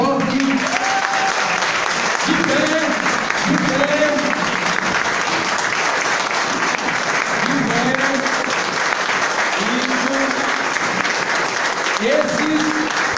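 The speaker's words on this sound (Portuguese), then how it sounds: "Agora vamos fazer uma salva de palmas bem forte." Congregation at a Spiritist centre in Brazil giving a loud standing round of applause, continuous heavy clapping with voices talking or calling out over it at intervals.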